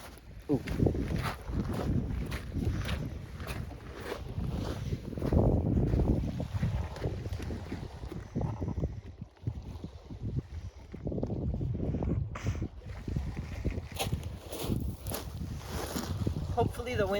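Gusty outdoor wind buffets a camcorder microphone with loud, low rumbling bursts that rise and fall throughout, easing briefly midway.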